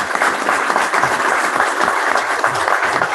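A live audience at a men's retreat breaks into loud, steady applause, dense clapping from many hands sustained throughout without a break.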